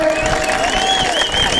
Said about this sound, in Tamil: எல்லாரும் ஒரு வாழ்த்து கரகோஷம் போடுங்க